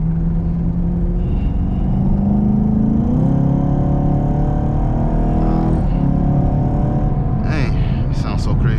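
A Chevrolet Camaro SS in sport mode drives through rain at night, its engine droning steadily from inside the cabin and rising in pitch as it revs, with rain hiss underneath and a voice talking over it.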